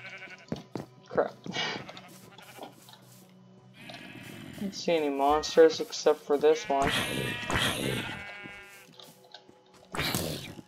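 Sheep in the video game Minecraft bleat in short, wavering cries, mixed in with a player's frequent talk and other game sounds.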